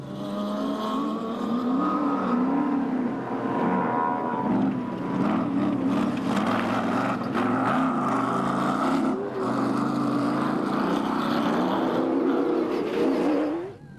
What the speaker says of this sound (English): Toyota Hilux of Anthony Taylor and Chris Birkin starting to close in on these special vehicles